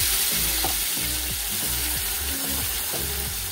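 Cooked dal poured into hot tempering for thotakura pappu gives a steady sizzle, with repeated scraping and stirring strokes in an uneven rhythm over the frying hiss.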